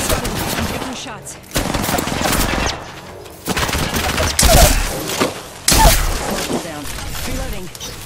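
Video game gunfire rattles in loud, rapid bursts, with several fusillades broken by short pauses, close and dominant throughout.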